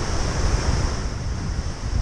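Steady roar of ocean surf breaking at Uluwatu, Bali, with a rising tide, constant broadband wash filling the whole stretch, rumbling low and loud with wind buffeting the microphone and no voices.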